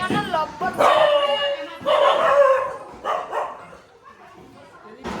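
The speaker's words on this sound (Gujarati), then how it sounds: "આઇકોનિક કૂતરો છે મારી ઘેર કોક આવે ને એટલે ભસવા" A house dog barks and yips a few times at fairly close range in a home, the short bursts mixed with people talking nearby.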